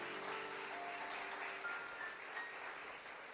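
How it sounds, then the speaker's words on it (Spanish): Church congregation applauding during a sermon, a soft, steady wash of many hands clapping heard from some distance, fairly faint and continuous. "Y denle un aplauso al Señor."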